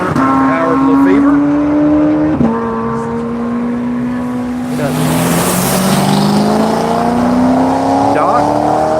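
Race cars, including a Toyota Camry, drive on track at Virginia International Raceway, engines droning loudly and shifting gears as they pass close by, with a commentator talking over the noise.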